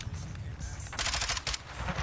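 Video game gunfire in a multiplayer match: loud, rapid automatic bursts crackle in quick succession over a busy background of game noise.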